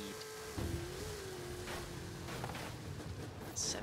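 AMG 6X6 in the Forza Horizon 5 video game shifting through its gears: a quiet engine drone with whining tones that drop and level off at each shift.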